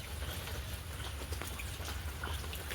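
Light monsoon rain falling outdoors in Gujarat amid flooded ground, a faint steady patter of drops with soft random taps, no voices.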